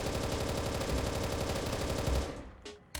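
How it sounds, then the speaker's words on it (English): Sustained automatic fire from an M16A1 rifle without a foregrip in Apocalypse Rising 2, a fast continuous burst of rapid shots for about two seconds, then a few scattered clicks and one last loud crack. "here's the recoil with the M16A1 without the foregrip"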